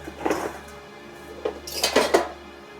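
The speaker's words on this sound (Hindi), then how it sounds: "ये बर्तन उधर रखाऊं घर में।" Metal cooking pots and utensils are handled in a home, giving several clattering clinks and clanks in irregular bursts, louder toward the end, with no talking.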